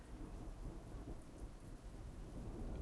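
Rain falls steadily in the video game Big Bad Dogs, a soft continuous hiss with a low rumble of thunder beneath it, faint and even throughout.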